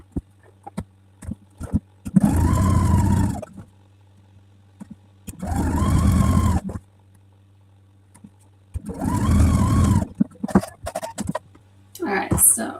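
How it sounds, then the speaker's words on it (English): Husqvarna Viking sewing machine stitching quilt strips together, with three steady motor runs of about one to two seconds each and a faint clatter of handling between them. "So now we're going to then sew all of these remaining three on."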